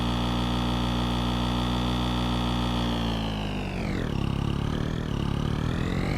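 A farm vehicle engine in Farming Simulator 22 on the Japan map drones loudly and steadily with no talk, its pitch dipping and shifting partway through as the machine is driven.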